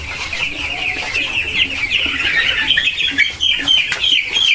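A ten-day-old chicken is weighed on a scale, with a continuous stream of high peeping and clucking that stays loud and close throughout.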